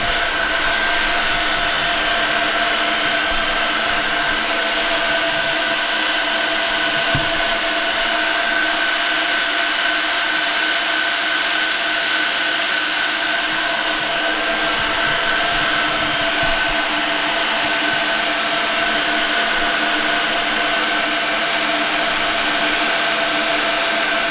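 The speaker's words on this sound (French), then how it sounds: "C'est normal que les ventilateurs au début ils s'allument" Loud, steady roar of server cooling fans running without a break at startup, a dense whooshing hum with faint tonal whines layered on top.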